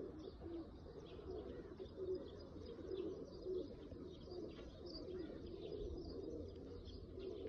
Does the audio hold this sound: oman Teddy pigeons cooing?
yes